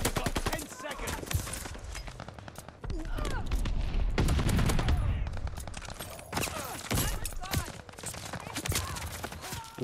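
Rapid bursts of gunfire in the video game Call of Duty Vanguard on the Champion Hill map, dense and loud throughout, with players talking over the shots.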